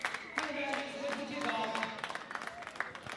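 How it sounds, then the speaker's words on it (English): Crowd of Honey Badgers supporters at a girls' final against the San Clemente Rhinos, clapping along as a mascot leads them: steady, rhythmic claps from a mid-distance crowd, heard under someone commentating throughout. "we've got a mascot here getting the Honey Badgers clapping and going down the front"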